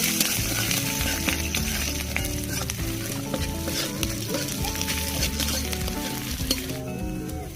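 Chopped ginger and garlic frying in oil as they are stirred in a pan, a loud, continuous sizzle with scraping stirs throughout and no one speaking.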